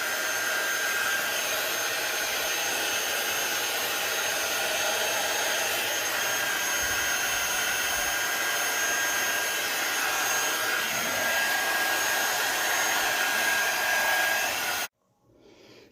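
Heat tool blowing hot air onto embossing powder for a stamped card, a loud steady close whoosh with a faint high whine that holds evenly for about fifteen seconds, then cuts off abruptly.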